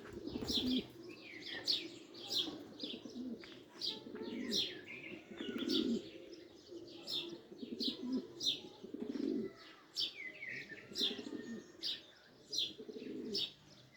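Pigeons from a flying flock on a hot day coo and chirp repeatedly over a steady low rumble, with scattered nearby calls and faint wing sounds throughout.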